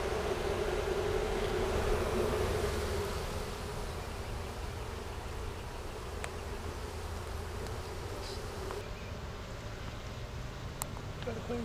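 A honey bee colony inside a felled, cut-open tree hums with a dense, continuous buzzing swarm close by, steady throughout and slightly louder at the start, with a few faint clicks and outdoor background.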